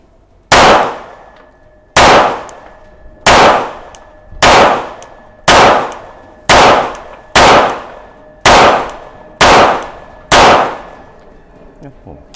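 CZ 75D Compact pistol fires ten evenly spaced, loud, sharp shots at close range, each with a short ringing decay and quiet gaps between.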